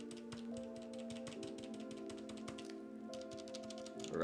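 Keys on a KBD67 MKII mechanical keyboard being tapped and rattled quickly, with a rapid run of light clacks over a quiet background, close and faint, with no speech.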